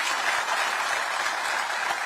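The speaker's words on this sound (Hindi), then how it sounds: "जोर से ताली हो जाए इनके लिए।" An audience at the Uttarakhand Governor's public address in Dehradun claps steadily, dense continuous applause filling the whole stretch with no voices breaking through.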